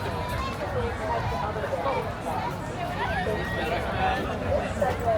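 A large crowd walking toward Tanjong Rhu MRT station in Singapore makes a steady, close hubbub of footsteps and chatter, with voices talking throughout.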